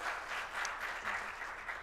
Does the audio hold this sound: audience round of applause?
yes